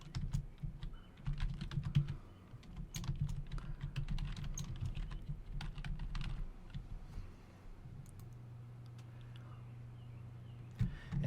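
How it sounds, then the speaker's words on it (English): A computer keyboard clatters with quick, uneven keystrokes as a page name is typed in, close and fairly quiet, pausing briefly near the end with a low hum underneath. "Then you have to type in what you want the name of the page to be."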